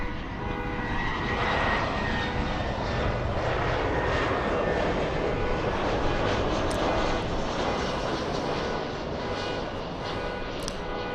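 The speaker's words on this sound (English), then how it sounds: "Delta coming in from Portland today, flight 2979. A little A319." A Delta Airbus A319 jet landing at Los Angeles airport, a steady loud engine roar sweeping past with a slowly shifting pitch for about eleven seconds, no talk.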